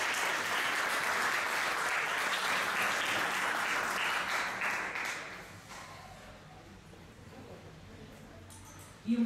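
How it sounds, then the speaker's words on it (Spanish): Applause from a church congregation during a sermon on the wedding at Cana, a steady broadband clatter of clapping that holds for about five seconds, then fades to a quiet room. "Se merece un aplauso, ¿no?"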